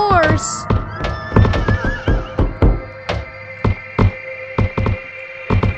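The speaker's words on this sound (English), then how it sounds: "It's a horse." In the horror video game Lab Monkey, a horse whinnies near the start, followed by a series of sharp, evenly spaced thunks and knocks that pulse steadily to the end.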